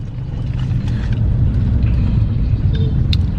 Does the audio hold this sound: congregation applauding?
no